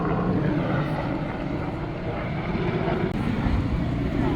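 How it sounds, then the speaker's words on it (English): An airplane drones overhead outdoors at a windy craft fair. Its loud, steady engine rumble fills the whole stretch with no other sound standing out. "sorry for the plane."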